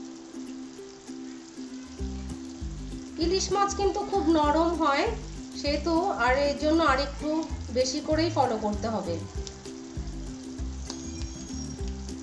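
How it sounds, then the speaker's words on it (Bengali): Hilsa fish fries slowly on banana leaves in a pan, giving a steady close sizzle with a voice talking over it most of the time. "মাছটা আস্তে আস্তে ভাজা হচ্ছে, এটাকে একটু ফলো রাখতে হবে যেন নিচ থেকে ধরে না যায়।"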